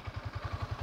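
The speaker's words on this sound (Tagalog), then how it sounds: "nadinig nyo naman yung rev natin. Normal na normal pa yung kanyang makina." A 2023 Yamaha Sniper 155R motorcycle engine runs close by in a fast, even throb of low pulses, steady and fairly loud with no talk over it.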